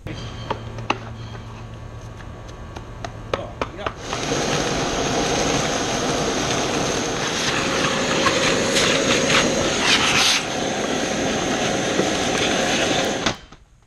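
A Toro lawn mower mowing a lawn: scattered clicks and knocks, then the motor starts with a loud, steady roar that holds for about ten seconds before cutting off abruptly.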